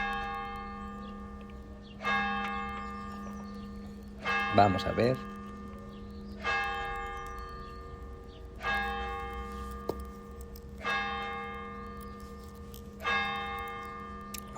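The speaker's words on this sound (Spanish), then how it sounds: "Ahora vienen las campanas, 11 campanadas" Church bells ring eleven chimes, each strike resonant and slowly decaying at a steady unhurried pace, with a brief voice speaking over one stroke.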